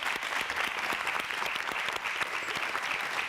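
A studio audience applauding after a round of a leadership competition show, a continuous burst of many hands clapping, fairly close and steady for several seconds.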